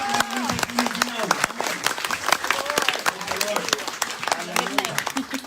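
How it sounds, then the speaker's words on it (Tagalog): A church congregation breaks into loud sustained applause during a service, many hands clapping densely for several seconds, with voices calling out over the clapping. "bigyan po natin ng malakas na palakpak ang ating Panginoon"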